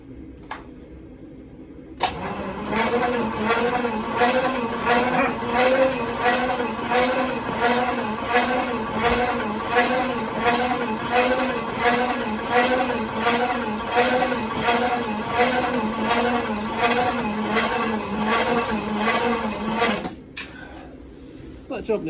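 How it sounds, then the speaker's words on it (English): A starter motor cranks the engine of a 1973 Pontiac Firebird Trans Am, a freshly imported car with engine trouble. It turns over in a steady, even rhythm of loud pulses for about eighteen seconds without firing, then stops. "I spin the starter motor now, it's going to turn, and in theory it's going to spurt oil all over the place"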